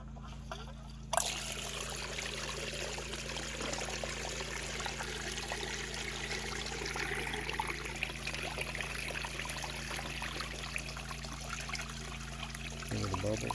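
Water running through a 6-inch mini gold sluice used for concentrate, a steady close trickling and splashing flow that starts with a sudden surge and continues unbroken over a low motor hum.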